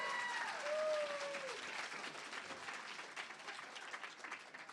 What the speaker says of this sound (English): Clap if it's crazy.